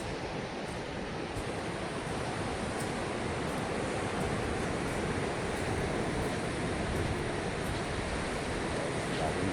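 Surf at Long Beach, heard during a jog along the ocean: a continuous, fairly loud rush of breaking waves mixed with wind across the microphone, with no clear speech.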